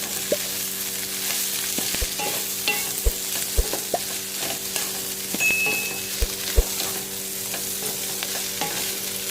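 Chicken and browned onions sizzle in a pan while a spoon stirs them, with intermittent scraping and sharp knocks against the pan over a steady frying hiss.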